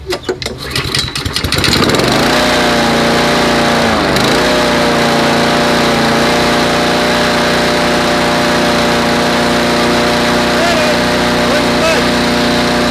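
Honda engine on an MTD lawn mower with a rebuilt carburetor, cranked with a few rough pulls before catching, then running loud and steady up close for the rest of the clip.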